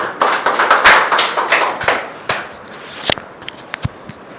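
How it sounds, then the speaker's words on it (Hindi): A congregation at a Sunday church meeting claps in a burst of scattered, overlapping hand claps that grows dense and then thins into a few separate claps, heard close and without talk. "तो ताली बजा के हम परमेश्वर को धन्यवाद"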